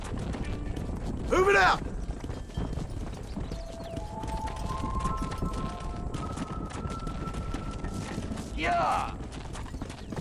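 Horse hooves clip-clopping at a steady gallop in a Western setting in Red Dead Redemption, with a rider's shouts and whoops over the running rhythm and a brief whinny near the end.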